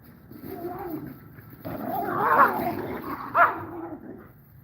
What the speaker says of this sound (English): Vicious dogs. They're just so vicious. They're ready to kill.